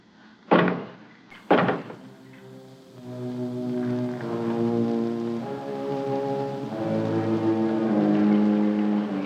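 Two loud, sharp knocks about a second apart in a 1962 sci-fi horror film scene, followed by a sustained low droning musical tone.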